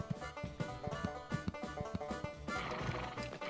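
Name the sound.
horse neighing in video game Animaniacs: The Great Edgar Hunt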